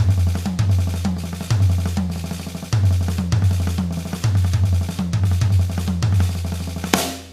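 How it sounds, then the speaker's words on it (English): Drum kit playing a syncopated pattern, right-hand accents landing on the floor tom and left-hand accents on the first tom, with steady, resonant tom strikes in a repeating groove, close and loud, ending with a crash. "put all the right-hand accents on floor tom, all the left-hand accents on first tom"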